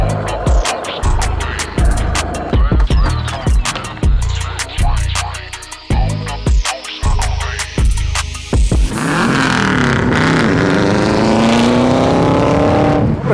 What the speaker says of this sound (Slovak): ak počuješ toho zadného výfuku, jak to turbo svišti, je to také veľce návykové